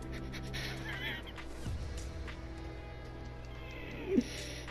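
A cat in a room gives one short, faint meow near the end over quiet background noise.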